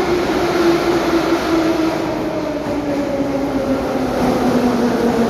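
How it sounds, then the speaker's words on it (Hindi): A Moscow metro train pulls into an underground station with a loud, steady rumble and a droning hum of wheels and motors that fills the whole stretch, no voices heard over it. "और ये हमारी मेट्रो आ भी गई बड़ी जल्दी, हर 30 सेकंड में आ जाती है यार।"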